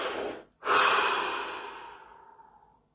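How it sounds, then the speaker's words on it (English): A single deep breath, drawn in with a soft rushing sound, a brief pause, then a long, gradually fading exhale, close and calm with no talk. "Take a deep breath."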